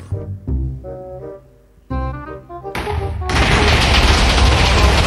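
A TNT block detonating in the Minecraft video game: a few deep thumps first, then a loud, sustained broadband explosion roar that fills the rest of the clip, with no talking.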